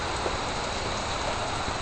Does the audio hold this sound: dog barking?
no